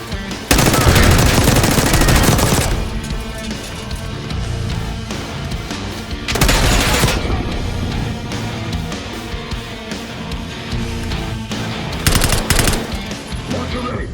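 Dense automatic machine-gun fire and heavy gunshot bursts in the video game Call of Duty Black Ops 6, loud and sustained, with sharp explosive surges near the start, middle and end of a chaotic firefight.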